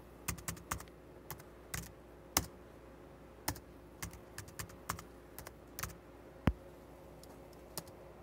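Someone types on a Mac computer keyboard to change a user password in OS X 10.6.8 single user mode, with sparse, irregular close key taps and a few sharper clacks in a quiet room.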